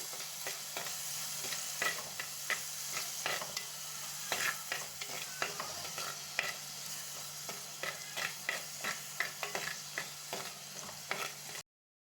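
Crushed shallots fry in a pan for a fish curry, giving a continuous close sizzle with frequent rhythmic scraping and stirring clicks throughout, then stopping abruptly at the end.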